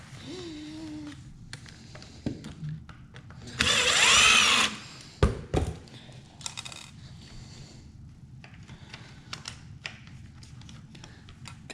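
A power tool spins out the center bolt on a Traxxas Maxx RC truck for a wide Maxx kit install, one loud whirring burst of about a second, followed by small clinks and handling noises close by.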